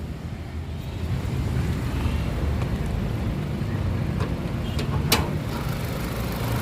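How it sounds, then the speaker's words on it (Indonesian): A 2017 Nissan Grand Livina XV manual engine idles with a steady, even low rumble, close by, smooth with no odd noises, a few faint clicks on top and no talking. "Bagian mesinnya seperti ini teman-teman, suaranya halus, nggak ada suara-suara aneh"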